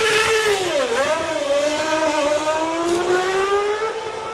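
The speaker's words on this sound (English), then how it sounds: "he releases the clutch and the car screams out of the box, leaving the pit crew in a cloud of smoke" Formula 1 car pulling away from the pit box in Grand Prix 4, with a loud, screaming engine note that dips briefly and then climbs steadily as the car accelerates.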